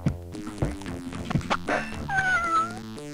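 Cat meows and dog barks from a Monster Bash horror house video game, several quick yips and barks followed by a drawn-out meow, close and clear with no talk.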